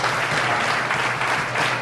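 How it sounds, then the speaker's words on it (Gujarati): Steady, dense applause from a church congregation at a New Year meeting, filling the room evenly and continuously without pauses or voices on top. "બધા તાળી પાડો."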